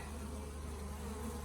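Africanized feral bees buzz around their hives, a dense, continuous droning hum from many insects at once, steady and close with no gaps.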